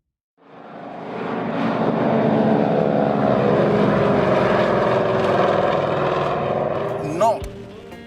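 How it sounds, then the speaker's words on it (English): A de Havilland Caribou propeller aircraft produces a loud, sustained engine drone that swells in quickly and holds steady for several seconds before a brief shift near the end. "the de Havilland Caribou, an aircraft that was very heavily engaged in the Vietnam War"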